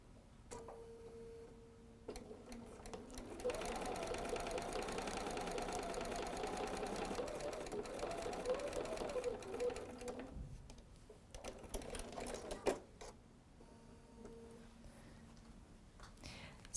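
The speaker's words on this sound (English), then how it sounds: "we'll go to our machine, and we're just going to be sewing a standard 1/4 inch seam allowance" A sewing machine stitches a quarter-inch seam in cotton fabric with a fast, steady mechanical whirr lasting several seconds, then a few shorter stop-and-start runs, close and fairly quiet.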